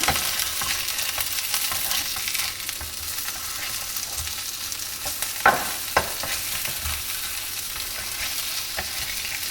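Kangaroo meatballs fry in a pan with a steady broad sizzle, broken by a couple of brief clatters as they are turned, with no talking.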